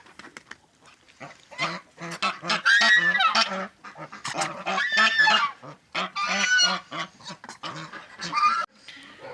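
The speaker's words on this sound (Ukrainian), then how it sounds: "ось це два гусаки." Two ganders honk loudly and repeatedly in short, nasal bursts, several calls overlapping in quick succession close by.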